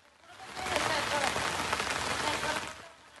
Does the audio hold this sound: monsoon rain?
yes